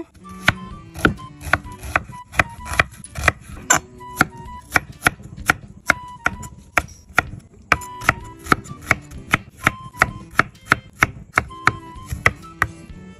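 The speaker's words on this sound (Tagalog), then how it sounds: "So, maghiwa tayo ng onion." A white onion is chopped with a knife on a cutting board, giving steady, close, crisp blade taps in a quick, even rhythm that continues alone for the whole stretch.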